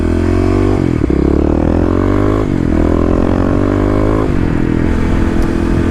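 Kawasaki KLX351 motorcycle engine revving hard out of a corner, loud and close, with repeated rising surges broken by brief dips between gears or throttle changes.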